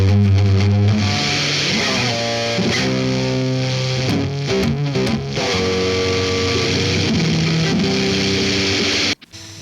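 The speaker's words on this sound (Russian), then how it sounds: "Делаем дисторшн." An electric guitar through a distortion effect in GarageBand plays a sequence of overdriven, buzzing notes and chords, loud and close. The sound continues for several seconds, then cuts off abruptly near the end.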